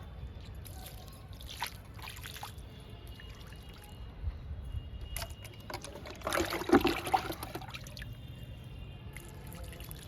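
Liquid kitchen-waste fertilizer poured onto a young mango plant gives soft splashing and trickling, with scattered drips and a louder pour toward the end, close and fairly quiet.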